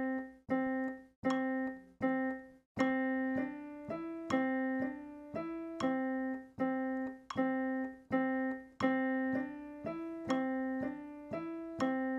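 Metronome ticking at a slow tempo, a bright pitched click repeating evenly about once a second, some beats slightly higher in pitch than others, each ring decaying before the next; moderately loud, nothing else.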